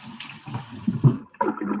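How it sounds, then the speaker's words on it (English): Hands are rinsed under a running tap in a kitchen, with short bursts of splashing water that stop briefly midway and then resume. "Let me rinse my hands off here real fast."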